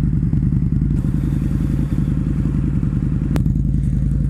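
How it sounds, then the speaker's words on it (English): A 2011 Harley-Davidson V-Rod 1250cc motorcycle exhaust gives a deep, steady, close pulsing rumble throughout, with a few faint clicks on top. "Yeah, beautiful exhaust note."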